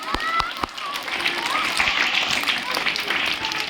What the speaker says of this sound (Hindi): जोरदार ताली लगाओ।